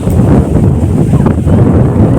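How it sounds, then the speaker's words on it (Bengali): Strong wind gusts across an open field flooded with rainwater, a steady loud rumble buffeting the microphone throughout with no let-up. "আর প্রচুর হাওয়াও দিচ্ছে।"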